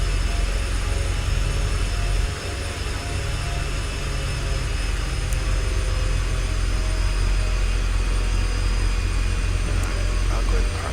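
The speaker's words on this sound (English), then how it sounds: "In theory, I should be able to taxi with the engines idled. But nope. Gotta give it a little bit of gas to get moving." Turboprop aircraft engines in the flight simulator X-Plane 10.5 hold a steady, whining drone with a low rumble underneath while the plane taxis, loud and continuous for the whole stretch.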